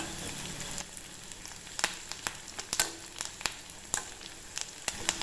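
Curry leaves crackle and sizzle as they hit hot oil with fried shallots, a soft continuous frying hiss broken by sharp irregular pops and spits, close and alone with no voices.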